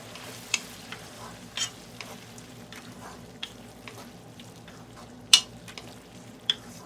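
Garlic mushrooms fry in a pan as half a cup of beef stock goes in, giving a steady low sizzle broken by a few sharp stirring clinks and scrapes.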